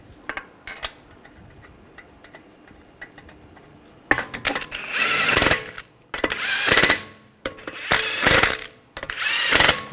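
Lug bolts on a 2009-2010 BMW 535i xDrive front wheel being threaded in and snugged down, heard as several loud bursts of metallic ratcheting and clatter after a few seconds of quieter clicks and handling noise.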